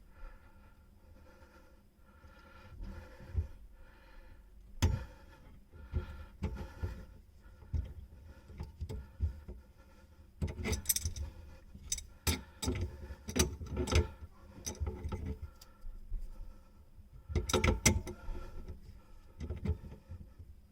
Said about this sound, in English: I'll hold this while I'm unscrewing it so it doesn't move too much.